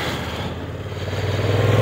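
A 2022 Honda NT1100 DCT motorcycle engine pulls hard on a test ride, its close, loud drone climbing steadily in pitch and volume as the bike accelerates.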